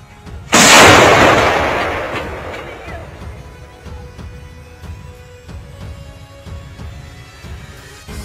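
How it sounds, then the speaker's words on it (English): A single heavy artillery blast strikes during an ambush on a Russian tank column in eastern Ukraine, a sharp loud boom that rolls off into a long fading rumble, followed by faint crackling and distant noise. "The devastating and accurate artillery fire destroyed a column of Russian tanks moving through the eastern portion of Ukraine."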